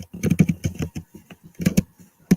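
Fingers type on a computer keyboard in irregular bursts of crisp, close key clicks and clacks, pausing briefly between runs, with no one talking over it.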